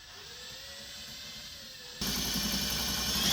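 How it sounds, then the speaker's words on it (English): An angle grinder converted into a salad shooter spins its knives freely on a test run, giving a steady high-pitched whine and rush that suddenly jumps louder and harsher partway through, continuous and close. "I built a little home for the lettuce slicer where it could spin freely and gave her a little test spin."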